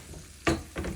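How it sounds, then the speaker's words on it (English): Curry leaves hit hot oil in a pan for a chicken curry, giving a short loud sizzling burst followed by a second softer crackle, all within about a second. "just the curry leaves. And this starts sizzling."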